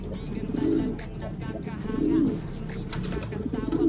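Pigeons cooing up close, several throaty, rolling coos repeating about every one and a half seconds over background murmur and rustling, with a voice speaking.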